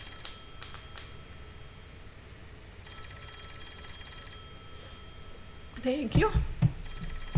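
A telephone rings in the Rain Code video game, a special direct line to the World Detective Organization, sounding as repeated electronic ring bursts at moderate level before a voice speaks over a rising background near the end.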